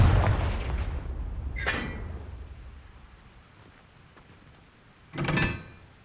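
Confringo fire spell blasts in Hogwarts Legacy, two sharp bursts a few seconds apart, the second loud and close, over a fading rumble with no talk.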